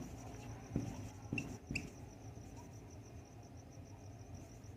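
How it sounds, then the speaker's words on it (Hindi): A pen scratches across paper while a class 10 maths problem is worked out by hand, with a few sharper strokes early on and then soft, quiet scribbling, no voice. "इसको मिटा के लिखती हूँ।"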